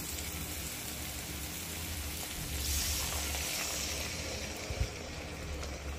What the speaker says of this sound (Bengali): পানিটা দিয়ে দিচ্ছি